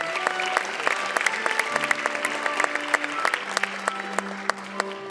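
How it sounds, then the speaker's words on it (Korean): Applause from the audience at a university degree conferment ceremony, steady clapping over about five seconds with sharp individual claps standing out above a sustained tone in the hall. "뜨거운 박수 부탁드립니다"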